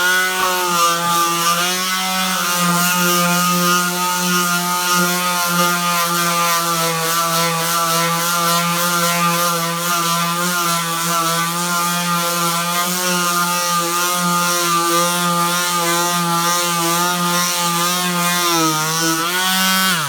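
80-grit sanding of a wooden coffee table with a grease stain and heat mark: a loud, continuous, steady whirring drone of a power sander running without pause, with no talk.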